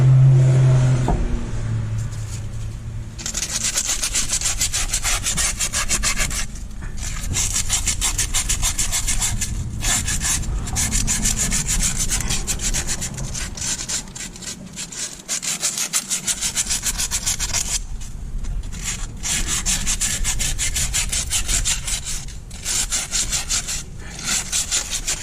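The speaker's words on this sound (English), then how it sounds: "after I'm done hand sanding it" Hand sanding a Chrysler 200 wheel hub, a steady scratchy rasp of abrasive on metal in repeated back-and-forth strokes, close and continuous with brief pauses between passes.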